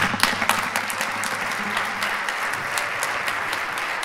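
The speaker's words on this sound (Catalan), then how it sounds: "vos demano un fort aplaudiment també per a aquestes entitats que fan que la nostra cultura no muiga" A concert audience at a cultural centre applauds in sustained, dense clapping with a few sharper individual claps standing out, close and steady throughout.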